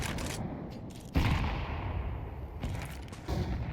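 Gunfire rings out in a Counter-Strike 2 esports match, several loud close shots with sharp onsets and rumbling tails, separated by brief quieter gaps.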